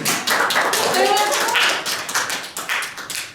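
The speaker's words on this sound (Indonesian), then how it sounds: "Tepuk tangan." Students in a microteaching classroom clap together in a quick, dense burst of applause, close and loud, with voices mixed in and the clapping tapering into scattered claps at the end.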